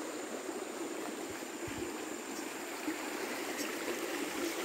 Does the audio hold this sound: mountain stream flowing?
yes